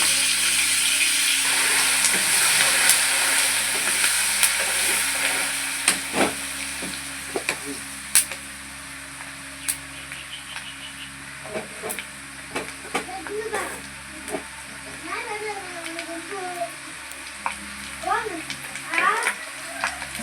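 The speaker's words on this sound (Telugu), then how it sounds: "కరివేపాకు వేస్తున్నాను." Curry leaves added to tempering oil with turmeric for mango pulihora, a steady hiss of frying at first that thins into scattered pops, clicks and stirring scrapes, with a voice speaking softly in places.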